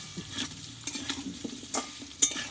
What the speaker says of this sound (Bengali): আলুটা কষানো হচ্ছে